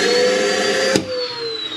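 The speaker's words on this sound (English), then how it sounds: "Oh, central vacuum system." A central vacuum system runs inside a 2009 Ameri Camp Trail Boss 402 fifth wheel RV, a loud, close, steady whine with a sharp click partway through as the pitch shifts.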